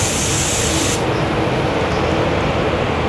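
A sealer spray gun set to a wide-open fan at 23 PSI sprays onto a wall, giving a loud, steady broadband hiss that runs without a break for the whole stretch.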